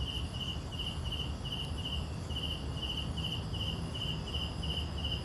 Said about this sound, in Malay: katak-katak pun dah mula menyanyi.